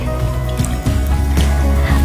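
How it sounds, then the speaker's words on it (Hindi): Baking soda being stirred into a bowl of water, giving close, continuous wet sloshing and dribbling with a few soft splashy accents throughout. "इसको अच्छे से मिक्स कर दीजिए"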